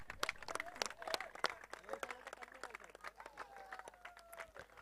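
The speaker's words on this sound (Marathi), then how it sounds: "टाळ्या टाळ्या वाजवा" Audience applause at a cricket tournament prize ceremony, scattered claps from a crowd forming an uneven patter, with an announcer's voice and chatter running over it.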